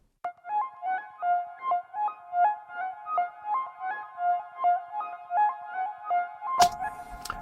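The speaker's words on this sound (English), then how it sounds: "We also have a sequence here which came from the modular." A modular synthesizer sequence with a long attack repeats a short melodic pattern of gently swelling tones in a steady pulsing rhythm, ending in a sudden burst of noise, with no talking.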